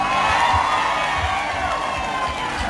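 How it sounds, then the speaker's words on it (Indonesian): A live crowd applauds and cheers for Basuki Cahaya Purnama (Ahok) at an Indonesian public gathering, a steady, dense roar of clapping and voices that holds throughout without letting up. "berikan tepuk tangan untuk Bapak Basuki Cahayapurnama"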